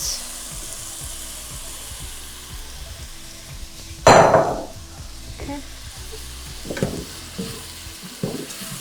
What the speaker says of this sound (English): I'm gonna add the rice and sort of let the rice toast in the pot with it